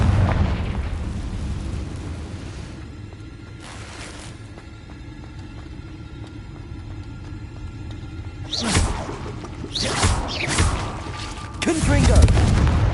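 Confringo spell blasts from the Hogwarts Legacy video game, a rumbling explosive burst at the start, then a long low roar, with several loud whooshing bangs clustered near the end.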